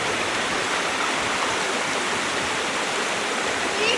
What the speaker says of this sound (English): Here, let's go in the little waterfall area.